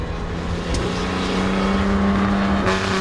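A D-Type Jaguar racing car drives along the road with a loud, steady engine drone. Its pitch rises near the end as it pushes on.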